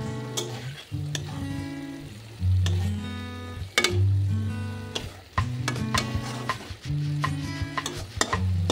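Stuffed pointed gourds (potol) fry in a pan while a utensil stirs them, producing repeated scraping clicks and knocks over a low sizzle, with a melodic tonal background running underneath.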